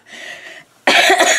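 Someone with a cold coughs up close: a softer, breathy lead-in, a brief pause, then a loud, harsh cough burst.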